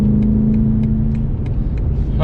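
A BMW M8 Competition rolls into the pits at Silverstone, its engine a loud, steady low rumble heard from inside the car with a faint rhythmic ticking over it, and a voice breaks in at the very end.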